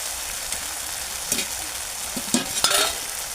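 Tomato masala frying in oil while being stirred, a continuous bright sizzle with several quick scraping strokes of the spoon toward the end, close up with no voices.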